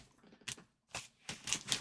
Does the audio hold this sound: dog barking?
no